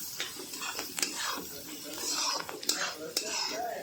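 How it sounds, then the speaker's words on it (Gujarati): Onions roasting with turmeric in a pan over a medium-low gas flame for kanda poha, a light sizzle with clinks and scrapes of a spoon stirring against the pan. "હવે ડુંગળીને આપણે એકદમ મીડિયમ ટુ લો ગેસ પર શેકી લઈશું આ રીતે"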